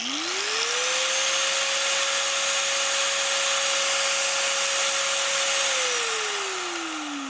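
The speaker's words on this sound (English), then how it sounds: "It can even run an angle grinder." An angle grinder running off a Bluetti Elite 30 V2 portable power station spins up to a steady loud whine, holds for several seconds, then winds down as the motor coasts to a stop.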